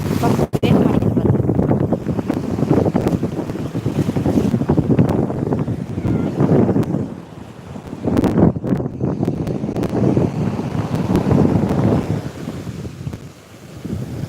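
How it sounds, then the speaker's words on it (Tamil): Sea waves surging onto a village beach, a steady loud wash of surf and rushing water mixed with heavy wind noise across the microphone, with no voices. "இப்போ நல்லா வேகம் அடிக்குது அலை"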